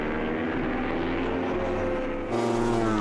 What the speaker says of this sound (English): Tosland doing what he does best and just burying himself in that Ducati 999, powering down the straight